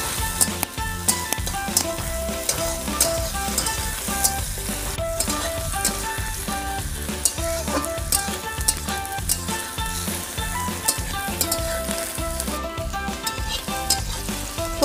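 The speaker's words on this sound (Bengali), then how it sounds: "এবার আমি টমেটোটাকেও ভালো করে একটু ফ্রাই করে নেব পেঁয়াজ আর লঙ্কার সঙ্গে।" Diced tomato frying with onion and green chili in a pan for home-made pasta, a steady close sizzle with a tonal, rhythmic layer over it for the whole stretch.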